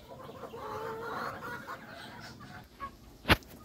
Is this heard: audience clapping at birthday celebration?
no